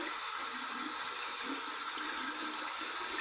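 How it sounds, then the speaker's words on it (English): Water runs steadily from a tap over a silvertip badger shaving brush, a constant, faint, even rush with no breaks and no voices. "I'm just going to just run under some water"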